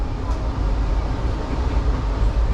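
Inside a moving Indian passenger train, a steady low rumble and rattle of the carriage, close and constant without clear breaks.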